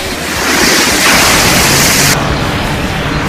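A huge ocean wave rolls and crashes, filling the scene with loud, sustained broadband surf roar and wind-like rush that swells and then eases slightly.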